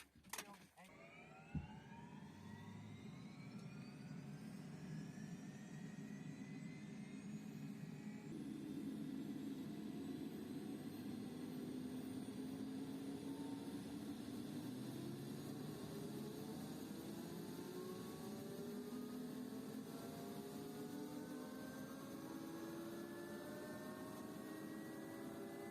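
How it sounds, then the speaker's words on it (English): Helicopter engine starting up for a day trip between Qaqortoq and Nanortalik, Greenland: after a sharp click, a steady loud whine builds with rising turbine tones and a broad rumble, continuing unbroken throughout. "the pilot fired up the engine."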